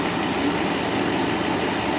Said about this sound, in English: the engine changes, the RPMs change, they become uneven